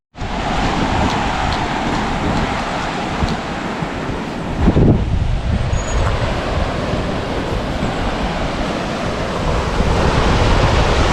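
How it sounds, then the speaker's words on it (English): Fast-flowing river rushing loudly beside a hiking trail, a steady broadband roar of churning water that holds without a break from start to finish, close and constant with no voices. "River's going pretty crazy though."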